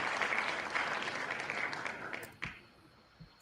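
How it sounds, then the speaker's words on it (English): Audience applause fills a room at an evening event, a steady, fairly close wash of many hands that fades out near the end, leaving a couple of isolated claps. "I like the applause. Can you hear the applause?"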